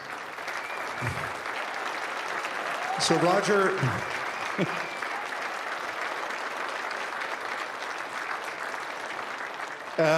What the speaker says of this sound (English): Big round of applause for Roger Song